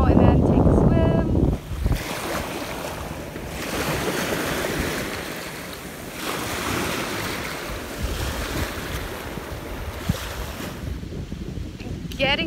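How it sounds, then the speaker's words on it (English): Ocean surf rolls onto a white-sand beach on Cham Island near Hoi An, Vietnam, a loud continuous wash of waves mixed with heavy wind buffeting the microphone. "We just made it to the beach and it's really beautiful here."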